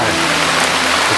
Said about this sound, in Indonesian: Tapi ini hujan deras sih.